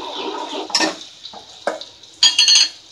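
Ground masala being stirred into a fish curry pan for a Bombil (Bombay duck) recipe, with sharp scraping clinks of a spoon against metal in separate bursts and a soft sizzle beneath.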